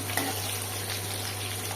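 Sliced onions fry in hot oil with a close, steady sizzle and crackle, continuous for the short stretch, with a low hum beneath.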